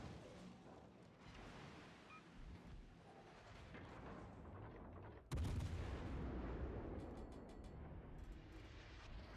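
Naval guns fire at the cruiser Suzuya in a video game: a faint, rumbling battle backdrop is broken midway by a sudden heavy salvo whose deep boom carries on afterward.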